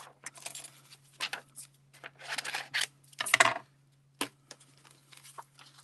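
Paper being cut out with an old Spellbinders die, heard as a series of close, scratchy cutting and rubbing bursts with short pauses, one sharper crackle midway, over a faint steady hum.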